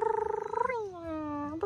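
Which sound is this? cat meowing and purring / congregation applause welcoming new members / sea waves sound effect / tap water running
cat meowing and purring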